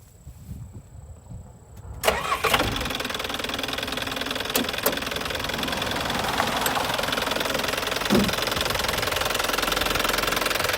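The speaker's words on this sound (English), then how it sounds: "start it up, and we'll let you hear it run." A 1992 Mitsubishi Willys jeep diesel engine starts up after a quiet moment and settles into a steady, rattling idle, close and continuous, with a few clicks and knocks.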